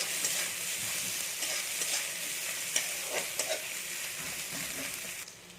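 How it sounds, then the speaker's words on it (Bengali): Chopped onions frying in oil in a pan for a semolina snack, a steady close sizzle with light stirring scrapes and small pops throughout, no voices. "পেঁয়াজটাকে এবার একটু আমি ভাজতে দেবো একটু হালকা লাল করে নেবো"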